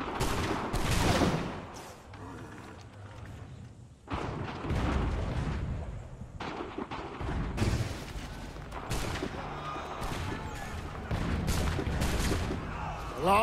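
Volleys of musket gunfire ring out across the Bunker Hill battlefield in Assassin's Creed III, a series of loud, dense bursts of massed shots repeating every second or two with rumbling booms between them.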